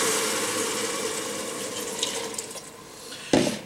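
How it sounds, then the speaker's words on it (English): Liquid pours steadily over a spoon into rice in a pressure cooker, a close continuous watery rush, ending with a brief clunk. "what I do when I pour it in, I pour it over my spoon"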